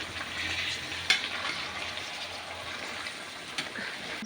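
Mixed vegetables frying in a pan with oil, a steady close sizzle broken by scraping stirs of a spatula, one sharper clack near the start.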